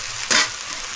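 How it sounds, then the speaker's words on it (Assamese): Eggs being stirred and fried in a hot pan, a brief scraping swirl rising over a steady close sizzle, alone with no voices. "এনেকৈ লাৰি দিব লাগিব"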